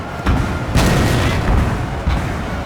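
Artillery cannons fire in Napoleon: Total War, several heavy booms at uneven intervals, loud and close, each rolling into a rumbling tail with no talking.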